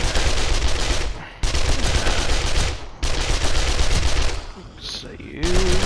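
Rapid bursts of automatic gunfire in a video game crackle loudly in dense, sustained volleys broken by short pauses, with faint voices underneath.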